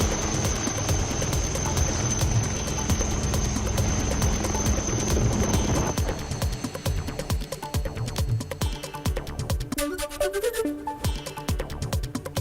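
A rescue helicopter flies over the Amarnath and Baltal area after a cloudburst, with a continuous rotor and engine roar, dense and steady, that thins and becomes choppier midway.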